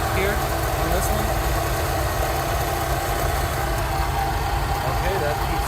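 A Rolls-Royce Silver Shadow engine idles steadily while its carburettors are tuned, giving a constant close mechanical hum with no break.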